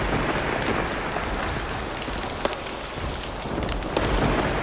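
Heavy raindrops falling steadily outdoors make a dense, continuous patter, with one sharper splat midway and no voices.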